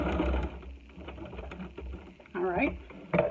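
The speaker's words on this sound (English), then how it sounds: "and I'm back stitching and I'm going to my little first mark, back stitching" Sewing machine back stitching across a fabric face mask, a steady mechanical whirr running in short bursts that stop and restart, with speech over it.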